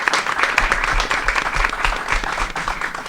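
Sustained applause from an audience honoring a performing group, dense steady clapping throughout with faint voices mixed in.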